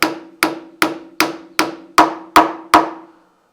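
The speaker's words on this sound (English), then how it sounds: "then I can drive the pin, hopefully" Eight evenly spaced, sharp metallic hammer blows ring out alone, driving a seized cylinder pin out of a backhoe's hydraulic stick cylinder, each strike decaying quickly before the next.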